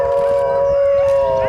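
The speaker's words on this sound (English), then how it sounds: "Wolf," A wolf howls in one long, steady, tonal call that holds its pitch and stays loud throughout, with no talking over it.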